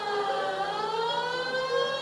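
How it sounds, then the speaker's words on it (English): Police car siren from the L.A. Noire video game, a steady wailing tone with harmonics that rise and fall. It plays loud and close, alone and unbroken across the whole stretch. "Put on the siren."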